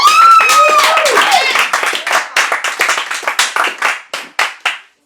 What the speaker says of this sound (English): Let's give another round of applause for everybody